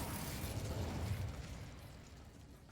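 Incendio fire spell cast in Hogwarts Legacy, a broad rushing burst of flame that swells quickly and then tapers off steadily over a few seconds, with no voices.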